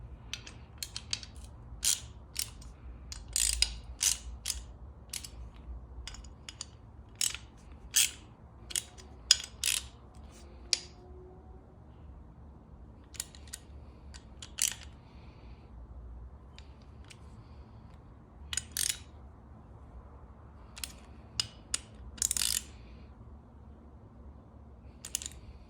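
Bolts cranked down tight with a ratchet during a vehicle part install, bursts of sharp clicking pawl ticks in irregular runs with pauses between, close and fairly quiet.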